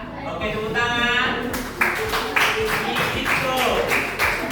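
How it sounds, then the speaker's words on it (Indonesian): Schoolchildren in a classroom clap in a quick, regular rhythm that starts partway through, mixed with voices chanting or talking over the beat. "Oke, tepuk tangan."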